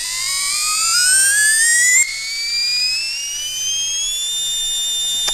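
A prototype brushless RC motor spins up with a loud, piercing whine that climbs steadily in pitch as RPMs rise, then settles into a high sustained tone with no voices.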